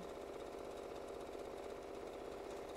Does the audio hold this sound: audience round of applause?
no